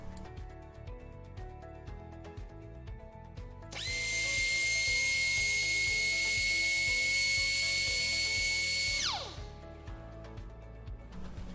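An air-driven VSpin milling spindle spins up to about 33,000 rpm, giving a loud, piercing high whine that holds steady for about five seconds, then drops away as it spools down, over quieter machine-shop background noise.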